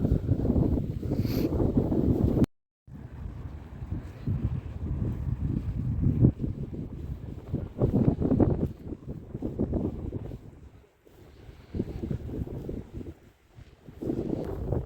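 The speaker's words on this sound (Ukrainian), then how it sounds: "Зараз дуже вітряно, не знаю, як мене буде чути." Strong wind buffets the microphone in a steady low roar with gusty swells, broken by a brief dropout early on, with no talking, outdoors in the Lake District near Keswick, England.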